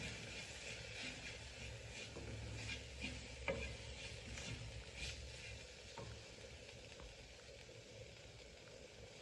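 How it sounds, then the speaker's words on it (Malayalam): Chili powder and turmeric fry in a pan over low heat for a Kottayam-style fish curry, making a faint, continuous sizzle with occasional soft stirring scrapes and no voices. "ഇത് തീ കുറച്ച് വെച്ച് നന്നായി മൂപ്പിക്കുക."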